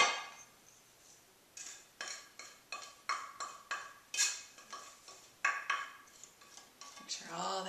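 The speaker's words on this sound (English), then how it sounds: "Now I'm going to start putting all of that into 1 pound of ground turkey. And we're going to just mix all of that in." Ground turkey being mixed with seasonings in a bowl for meatballs, a quiet series of regular clinks and taps of utensil against the bowl, close by, with a louder scraping rustle at the end.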